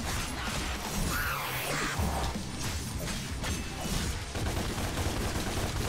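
Dense, rapid gunfire bursts in Devil May Cry, mixed with crashing impacts and clattering mechanical effects in a continuous, busy wash of combat noise.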